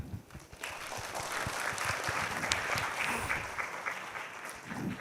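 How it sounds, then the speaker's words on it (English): Audience at a tech talk on Flutter web development gives a moderate round of applause, scattered clapping that swells and tapers, fairly faint and roomy with no speech over it. "Clap, clap."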